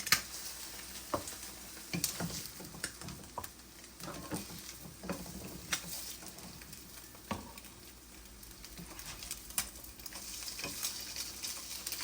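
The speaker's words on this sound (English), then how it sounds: "our eggs are frying up and just about done" Eggs sizzle and crackle steadily in a pan, with scattered pops and ticks over a constant frying hiss, fairly close.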